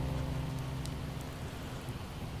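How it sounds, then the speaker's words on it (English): Steady rain falls in the survival video game Project Zomboid, a dense, even patter with a low rumble underneath, continuous and fairly loud throughout the short stretch. "it's starting to rain out"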